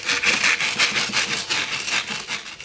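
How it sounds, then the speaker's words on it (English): Rhythmic back-and-forth scraping of sandpaper on the rusty shaft of an HVAC blower motor, about a dozen quick strokes in a steady rhythm, close up with no talking. "I will attempt to sand down what I can"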